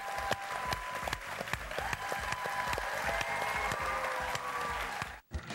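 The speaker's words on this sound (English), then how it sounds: "You guys can clap." A live studio audience at a Nickelodeon broadcast in Orlando claps steadily, with sharp individual claps standing out over the crowd wash, ending in a brief dropout near the end.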